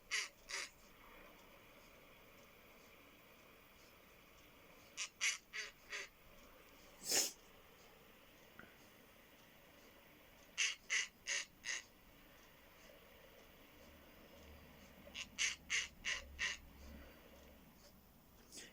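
Female snowy owl makes high, squeaky calls in short clustered bursts of three to five, separated by pauses, over a faint hissy background.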